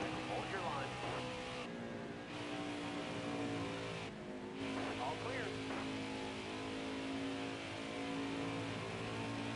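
Racing trucks in the NASCAR Heat 5 video game roar and rev continuously, engines rising and falling as they run in a pack, with a commentator talking over them throughout.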